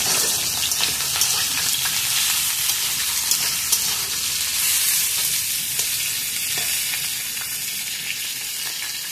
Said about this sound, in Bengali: পটলটা খুব সুন্দরভাবে ভেজে নেব।